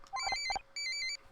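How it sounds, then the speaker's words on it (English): A phone rings in the video game Murder by Numbers: two short bursts of a bright electronic ringtone with a high, steady tone, clear and alone with no talking. "Phone ringing in the middle of all this."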